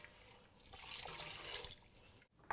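Water pours steadily into a pot of stewed lentils on a kitchen stove, a soft continuous splashing and trickle that is faint and close, ending with a short clink.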